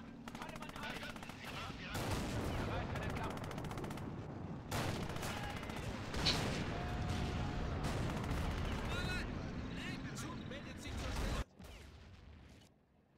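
Gunfire rolls through a World War II eastern-front battle in the Real Warfare video game, sustained crackling and distant booms with brief gaps and occasional louder shots.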